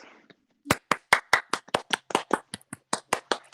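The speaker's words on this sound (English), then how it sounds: "I'm gonna give you a round of applause." One person claps alone and close by, about fifteen sharp, evenly spaced claps after a brief soft noise at the start.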